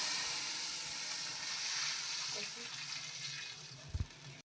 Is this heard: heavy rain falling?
no